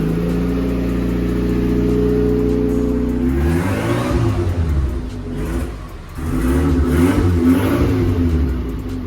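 Car engine with a drag pipe exhaust, idling steadily with a deep harmonic drone, then revving hard in two loud rising and falling bursts, up close.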